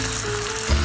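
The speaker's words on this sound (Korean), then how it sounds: "이거는 관자고 재빨리 익혀야 돼요" Scallops and clams, including peach clams, sizzle on a grill at a cold campsite in Gangwon, a steady close frying hiss that swells louder near the end.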